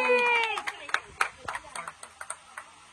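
A short burst of hand clapping for a correct quiz answer at a family anniversary celebration, several quick claps in an uneven rhythm, following a voice at the start.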